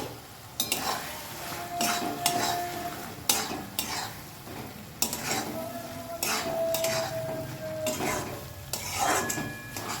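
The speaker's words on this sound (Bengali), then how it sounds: "এইভাবে বেশ কিছুক্ষণ আর একটু নাড়াচাড়া করে নিয়ে এটা শুকিয়ে নেব" A spoon scrapes and clinks against a pan as Kashmiri chili powder is stirred into lote fish over a medium gas flame, in repeated close strokes with a faint sizzle underneath.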